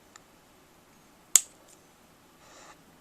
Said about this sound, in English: The braid will be a little tougher to cut with these scissors.